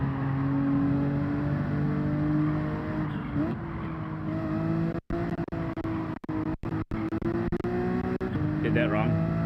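Race car engine in the Gran Turismo 7 video game during an online daily race, a steady droning engine whine with rising and falling pitch under continuous talk, with a few abrupt dropouts.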